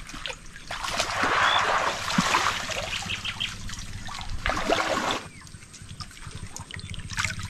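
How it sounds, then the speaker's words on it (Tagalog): River or creek water runs and trickles steadily close by in a continuous splashing wash, louder in the first five seconds and then easing slightly, with no talk. "Grabe itong ilog, ano na to, sapa na to"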